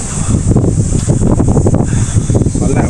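Wind blowing outdoors at a beach in Kamakura, Japan, buffeting the microphone with a loud, continuous low rumble and roar that rises and falls in gusts.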